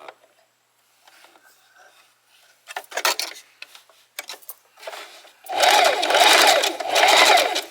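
A Singer Heavy Duty sewing machine stitches fabric, a few short bursts and clicks first, then a loud sustained whirring run near the end.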